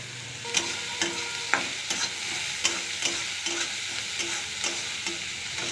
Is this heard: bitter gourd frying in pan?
yes